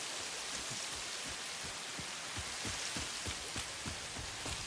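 Steady rain in a video game falls as a dense, even hiss, with soft patters and light drops ticking irregularly throughout, continuous and moderately loud without any talking.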